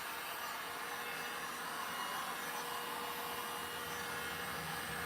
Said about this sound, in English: Did you guys hear that lag in my heat gun?